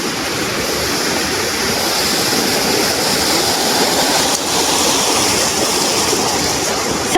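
Tay-tay Falls in Majayjay, Laguna pours with a steady, loud roar of rushing water that fills the air without a break, close and dense from start to finish.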